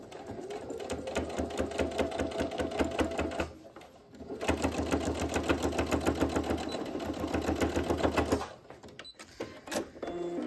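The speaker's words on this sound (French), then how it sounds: "je vais juste allonger mon point, hop, à 3 mm et je vais refaire juste une couture ici" Domestic sewing machine stitching a seam on a fabric drawstring bag with a lengthened 3 mm stitch: a loud, fast mechanical chatter in two long runs, a short pause between them, then a brief stop with light handling.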